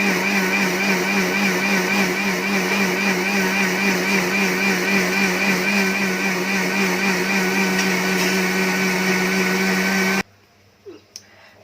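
A blender grinds flax seeds, sesame, peanuts and chillies into chutney, a loud steady whirring motor for about ten seconds, then it cuts off abruptly into near quiet with a few faint knocks.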